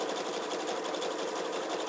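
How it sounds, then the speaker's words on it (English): Steady, close sewing machine stitching as the feed dogs pull butted fabric strips through, a fast uniform whirring of the needle and feed that keeps running without pause and without voices. "pull the sewing machine feed dogs just pull the strips right through"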